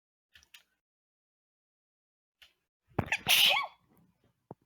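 A single loud, close sneeze bursts out of near silence during a game development session, with a few faint clicks and small noises scattered before and after.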